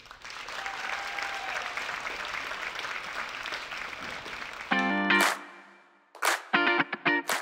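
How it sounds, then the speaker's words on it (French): An audience at a stage show applauds in a dense, steady wash of clapping for several seconds. It then cuts to loud, harsh electronic stabs and effects with brief gaps of silence. "Un tonnerre d'applaudissements, s'il vous plaît"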